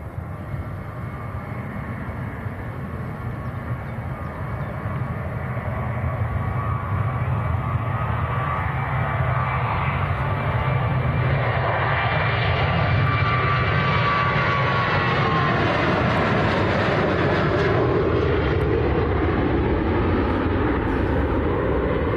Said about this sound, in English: Also have a Turkish Airlines taxiing out as well.